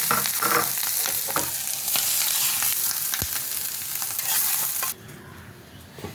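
Mushrooms fry in a pan with a steady, loud sizzle and occasional spatula scrapes and stirring clicks, then the sizzle drops sharply near the end as the heat is cut.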